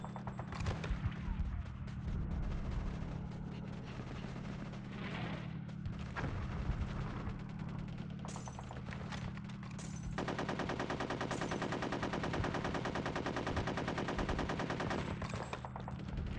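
Rapid video-game gunfire from Conker's Bad Fur Day, dense bursts of shooting running through the whole stretch, loud and close with only a faint voice under it.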